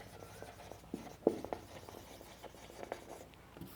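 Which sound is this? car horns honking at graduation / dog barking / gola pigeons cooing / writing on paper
writing on paper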